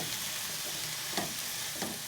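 A brinjal and potato curry with turmeric is stirred in a pan, giving a steady soft scraping and low sizzle throughout, with a couple of slightly louder spoon strokes and no talking.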